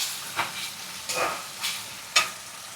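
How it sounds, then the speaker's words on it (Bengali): Ginger garlic paste is stirred in a frying pan for a chicken curry, with four short, distinct scraping strokes spaced about half a second to a second apart over a faint background sizzle. "এরপরে আদা রসুনটা পেস্টটা আছে সেটা দেওয়া হচ্ছে, দিয়ে ভালো করে নাড়াচাড়া করা হচ্ছে"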